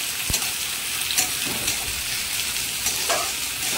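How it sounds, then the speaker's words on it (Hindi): Onion, garlic, curry leaves and fennel seeds fry in a pan, giving a steady close sizzle with a few faint clinks and stirring sounds over it. "कड़ी पत्ता सौंफ, इसको भी अच्छे से फ्राई कर लेंगे"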